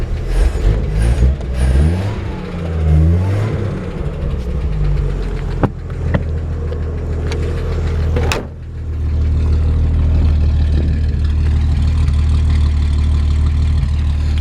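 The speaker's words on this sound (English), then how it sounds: "let's turn that off and you can hear how quiet the engine is." A 1955 Chevrolet Bel Air with dual exhaust, some music and shuffling at first, then the engine idling on its own with a low, even rumble close by.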